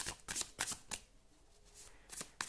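Tarot cards are shuffled by hand in quick, soft riffling bursts close by, with a short quiet pause between the bouts of shuffling.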